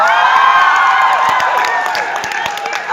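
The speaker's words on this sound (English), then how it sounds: "The crowd goes wild." Crowd at an Overwatch panel at ComicCon Asia in the Philippines cheers, whoops and claps loudly and continuously, with sharp individual claps and shouts standing out from the steady roar.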